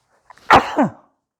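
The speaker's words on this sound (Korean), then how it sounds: "자꾸 재채기가 나오네요." A man sneezes once, loud and close, with a short sharp burst followed by a brief breathy tail, heard alone without speech.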